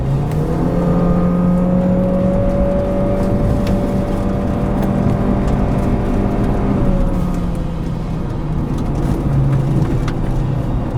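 A Honda Civic FA3 climbs a winter canyon road, its engine holding a steady, fairly loud drone over road rumble before the pitch eases off, with no speech.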